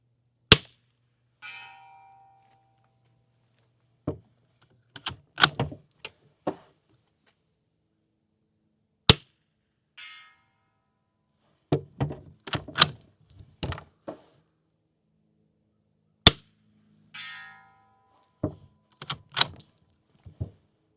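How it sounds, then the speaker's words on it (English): Suppressed .22 rifle fired with subsonic CCI Quiet ammunition from a 12-inch barrel through a 3D printed suppressor: sharp, separated cracks with quiet gaps between them, each followed by a faint mechanical clatter, with no talk. "So let's go ahead and send 5 shots downrange."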